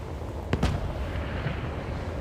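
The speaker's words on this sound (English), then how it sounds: "Field cannons are firing over here." Field cannons fire in Space Engineers during a battle against mechs, two sharp booming shots in quick succession rising above a dense, steady rumble of battlefield noise.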